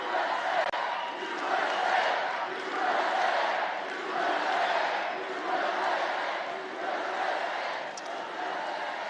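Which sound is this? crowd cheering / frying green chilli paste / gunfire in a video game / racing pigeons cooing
crowd cheering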